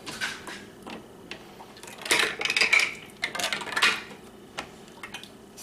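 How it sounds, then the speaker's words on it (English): Hot metal canning lids lifted out of an oven with a small magnet, giving light clinking and tinny metallic taps in a short irregular cluster, close and moderately loud. "This little magnet's nice to get these hot lids out of here."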